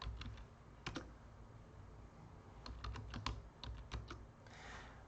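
Keystrokes on a computer keyboard as a virtual environment activate command is typed, heard as quick clustered clicks in short bursts with brief pauses, fairly close over a low steady hum.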